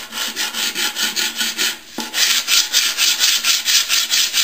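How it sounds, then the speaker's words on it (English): A sanding block is rubbed by hand back and forth over the edge of a red helmet to smooth a wavy spot. The strokes are rhythmic and close, with a short pause midway before the scraping resumes. "When you sand with a block on a area this big like this, you don't want to sit there and sand like this in one little spot."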